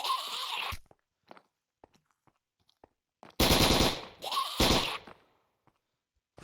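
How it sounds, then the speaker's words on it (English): A gun in the Minecraft game fires loud bursts of rapid automatic shots: one burst at the start, then two longer close bursts in the middle, separated by quiet stretches with faint clicks and footsteps. "this gun is actually very good, and most people don't believe it, but it takes pretty much 20 shots to kill anyone with this"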